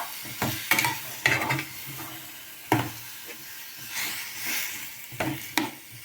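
Onions and tomatoes sauté in a pan for a bottle gourd kola urundai kuzhambu: a soft sizzle sits under sharp, irregular spatula knocks and scrapes near the mic, and no one speaks.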